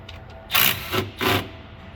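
Two short, close mechanical ratcheting bursts a moment apart as the last bolt comes off the lower fuel filter of a Ford 6.7 diesel, worked from underneath the truck.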